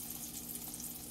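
A stuffed chicken breast fries in a pan, giving a faint, steady, even sizzle with no breaks and no talk.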